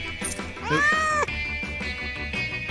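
A cat meows loudly once in the bartending video game Super Barkeep, a drawn-out rising-then-falling cry over steady game music and clatter.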